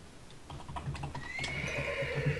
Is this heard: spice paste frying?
no